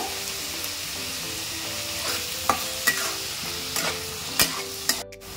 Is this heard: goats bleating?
no